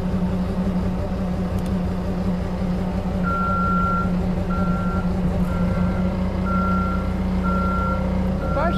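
A forklift's reversing alarm beeps at a steady rhythm over the constant heavy rumble of diesel equipment near an IH Dressta Dresser 175C track loader.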